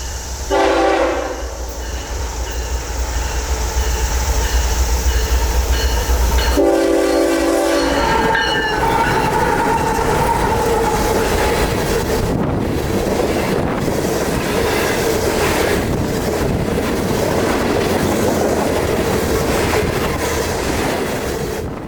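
A loud Norfolk Southern freight train rumbles past close by, its horn blaring in long blasts at the start, then steady clattering wheels and grinding cars continue.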